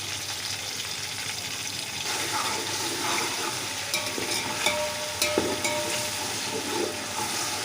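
Spices, dried whole red chillies, curry leaves and ginger-garlic paste sizzling steadily in a pan while being stirred, with soft scraping and bubbling frying noise throughout and no talking.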